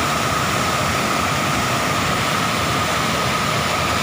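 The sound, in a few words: rushing river water at a floodgate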